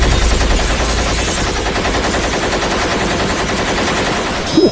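Police fire guns at a bandit in an animated drama, a sustained, loud burst of rapid automatic shots rattling without pause for several seconds, with no talking.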